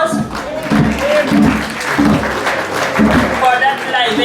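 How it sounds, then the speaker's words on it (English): An audience applauds after a libation ceremony at a classics awards event, a steady wash of clapping throughout with rhythmic drum-like thumps underneath, fairly loud and close. "Let us give Reverend Bowman another hand of applause"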